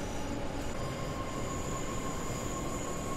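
Oncoming New York commuter train passing in the Train Sim World video game, a continuous loud rail roar with thin squealing wheel tones above it, steady and close throughout, with no talking.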